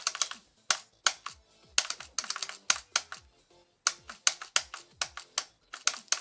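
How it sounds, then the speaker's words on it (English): Keys clatter on an office computer keyboard, close and crisp, in quick uneven bursts of clicks with brief pauses between runs, and no voices. "I play on an office keyboard"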